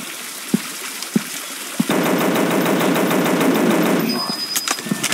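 Rapid automatic gunfire from a dinosaur hunting game on Android, a dense loud burst rattling for a couple of seconds after a few single shots, with no voice over it.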